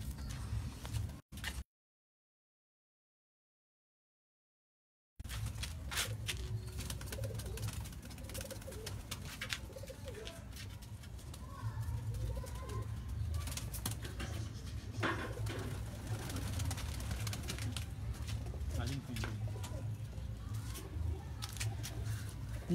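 Teddy pigeons coo softly and repeatedly in the background, mixed with wing flutters and scuffling, after a brief dropout of silence near the start.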